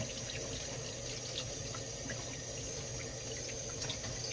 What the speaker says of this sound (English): I'm going to rinse off my hands again.